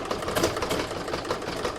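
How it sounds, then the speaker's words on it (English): An embroidery machine stitches a Christmas placemat design in the hoop, giving a steady, fast mechanical whir and rhythmic needle clatter close by, without talk. "I'm now going to pop that back in my machine and start stitching with round number 6"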